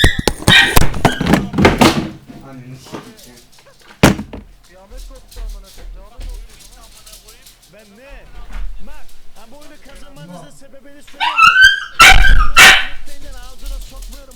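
A dog barks indoors in loud, sharp bursts at the start and again near the end, with someone talking over computer game sounds between the barks.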